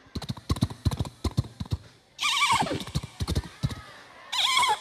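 A man imitates a horse with his voice, clicking out a quick run of clip-clop hoofbeats and then giving two loud, wavering neighs, the second one short.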